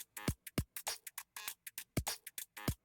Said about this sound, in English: Full breakbeat loop.